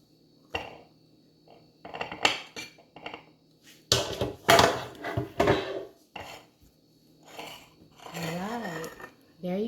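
A spoon scrapes and clinks as mango sticky rice is scooped out of a dish and plated, in short bursts of utensil contact with a brief voice near the end.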